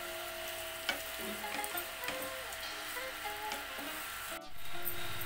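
Onions fry in a pan for tomato rice, a steady close sizzle with light spatula scrapes and stirring knocks, then a brief surge of louder hissing near the end.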